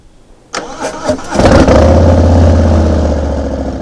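A motorcycle engine is started up close by. A sharp crank comes first, then a few sputters as it catches, and it settles into a loud, steady rumbling idle.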